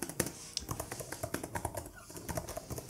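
Fast, steady typing on an Apple Magic Keyboard for an iPad Pro 12.9-inch (2020), crisp close-up key clicks in a continuous rapid rhythm with no talking.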